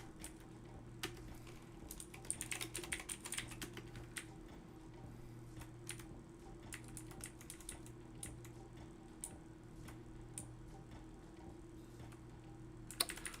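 Keystrokes on a computer keyboard while coding, coming as quiet, irregular clicks and short bursts of typing over a steady low hum, with scattered louder taps near the end and no talking.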